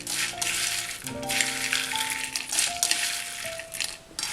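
Crispy fried tender jackfruit pakoda is tossed and mixed with fried curry leaves, giving dense, dry rattling crunches in continuous bursts, close and loud, with faint tonal clinks from the bowl.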